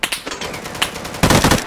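Bursts of gunfire from a weapon in the Deadside video game, several sharp shots in quick succession, ending in a louder, denser volley of rapid fire.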